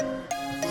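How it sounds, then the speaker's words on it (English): A little synth horn from an Afro/Moombahton remix made in FL Studio: a sustained brassy tone with two short accented stabs, steady and clear with nothing else over it. "this little horn"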